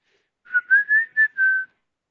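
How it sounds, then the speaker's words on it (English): A person whistles a short melodic phrase of about five bright, sustained notes, close and clear with nothing else around it. "Did I really just whistle down here?"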